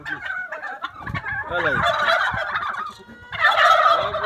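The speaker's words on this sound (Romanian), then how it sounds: "Ia gălăgii, și găinile și curcane, așa?" Turkeys gobble loudly and repeatedly among clucking chickens in a poultry yard, with bursts of overlapping calls and a brief voice in between.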